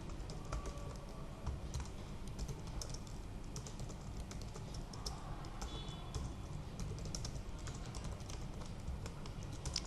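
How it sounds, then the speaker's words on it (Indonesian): Fingers type steadily on a computer keyboard, a quiet irregular patter of key clicks, close and alone with no voices. "dengan mengetikkan sintak dasar."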